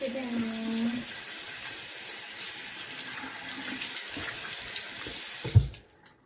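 A bathroom tap runs steadily while someone washes their face, a broad constant rush of water that ends abruptly near the end with a brief clunk. Voices are heard faintly over the flow early on.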